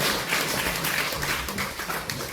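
Applause from an audience at a Korean book-launch celebration concert. Steady clapping from many hands fills the whole short stretch at moderate volume, with no talk over it.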